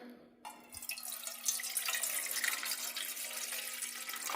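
Water pours steadily into a metal pot over tea lights after a brief clunk, a continuous splashing rush that stays fairly quiet and close.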